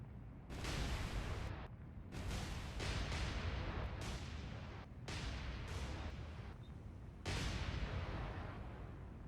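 Naval guns fire in the War On The Sea video game as a destroyer is bracketed, giving repeated heavy booming salvos at uneven intervals with rumbling tails, loud and alone with no talk.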